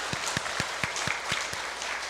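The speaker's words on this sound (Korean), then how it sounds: "우리 하나님께 우리 영광의 박수 한번 돌리도록 하겠습니다" A church congregation applauds, producing steady, moderate clapping with regular rhythmic beats running through it.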